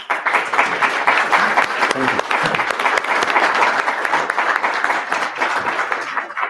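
An audience applauds for a speaker at the end of a talk on Angular's defer block, with steady, dense clapping filling the room throughout and a brief spoken word over it.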